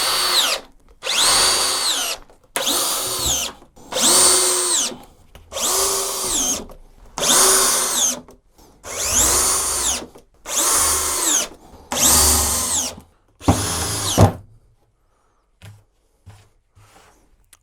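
A power drill drives 50 mm screws into an OSB workbench in about ten loud, separate bursts of whirring, with brief pauses between them, before it stops and the room goes quiet.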